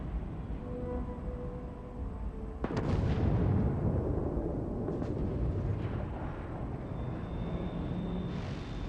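Gunfire in the sci-fi game Starfield: one sharp, loud blast partway through, followed by a heavy, rumbling boom that lingers over a steady low background hum.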